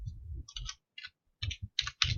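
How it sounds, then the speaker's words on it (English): Fingers tap on a computer keyboard in short, irregular bursts of light clicks with brief pauses between them. The sound is quiet and close, with no voices. "Then question while Helen is typing"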